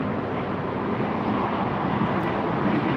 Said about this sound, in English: There goes Breeze, the Airbus 220-300, headed off to Pittsburgh